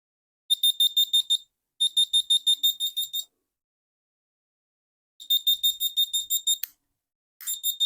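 A homemade carbon monoxide alarm built around an MQ7 sensor sounds its beeper in rapid bursts of sharp, high electronic beeps, four groups separated by short silences, loud and close with no talk.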